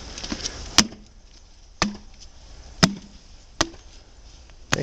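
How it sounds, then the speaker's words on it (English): Someone pounds on stone steps at the Brion Cemetery, producing five sharp, hollow knocks spaced about a second apart. A faint background hum fills the gaps between the strikes. "Robin, you want to go up the steps and try to pound so we can hear the noise?"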